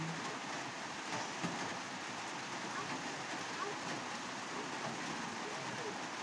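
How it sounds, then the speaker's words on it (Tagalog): Steady, dense hiss of rain falls continuously in the Philippines, an even wash of sound with no pauses. "Walang tigil ang ulan. Ulan ng ulan lang."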